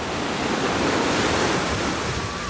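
Ocean surf on Orient Beach, St. Maarten, washes in as a loud, continuous hiss of breaking waves close by, with some wind buffeting the microphone.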